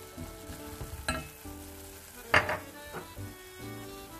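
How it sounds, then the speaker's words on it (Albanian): Onion frying in butter in a pan for a meatball-in-tomato dish, giving a steady close sizzle with a few brief louder spatters and stirring scrapes, no voices. "Tani do presim derisa qepa të fërgohet."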